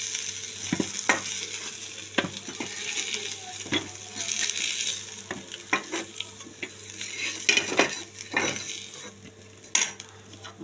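Potatoes frying in a pan for a Bengali pointed gourd dish, a soft sizzle broken by repeated spatula scrapes and metallic clinks against the pan, fairly close and quiet.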